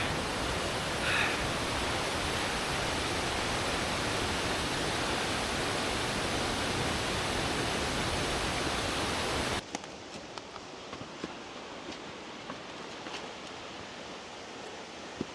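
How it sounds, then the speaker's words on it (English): A huge waterfall on a mountain river roars as a loud, steady broadband rush. Partway through it cuts to a quieter, thinner rushing of water with faint scattered sounds. "Another huge waterfall in front of me."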